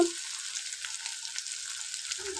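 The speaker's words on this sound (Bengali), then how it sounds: "আমি কেমন ভাবে নাড়িয়ে নাড়িয়ে ভেজে নিচ্ছি মশলাটা খুব ভালো করে" Spices sizzle steadily in hot oil in a pan while being stirred, a continuous bright hiss at close range with no voices.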